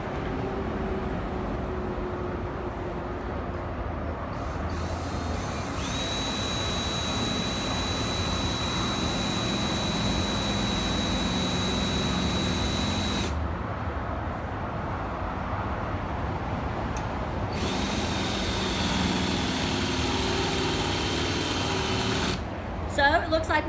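A power drill boring a hole through a metal commercial door, a loud continuous whining grind that holds steady for over twenty seconds with brief pitch shifts as the bit cuts.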